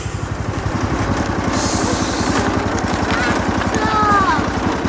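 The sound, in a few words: little red tractor engine running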